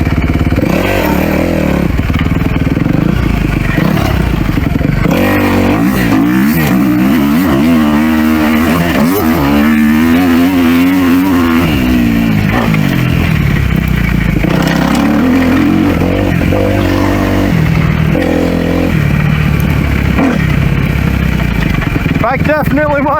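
A Kawasaki KX250F dirt bike engine revs loud and close throughout, rising and falling through the throttle with a raspy, continuous drone and a few sharp surges, with a voice speaking over it.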